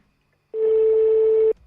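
During a phone call, a single steady ringback tone sounds for about a second, loud and clear against a quiet line.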